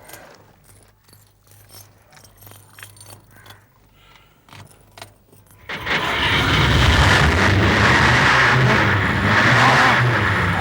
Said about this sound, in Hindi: गाड़ी स्टार्ट करके देखते हैं कि कैसी आवाज आती है